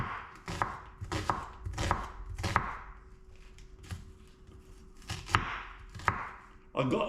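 Onions are chopped by hand with a knife on a board, a series of crisp close knocks in uneven bursts, with faint talk in the gaps.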